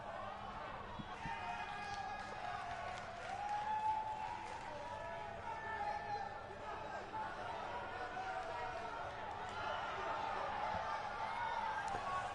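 A large video game wrestling crowd in WWE 2K19 applauds and cheers steadily, a dense wash of clapping and voices with an announcer-style voice talking over it.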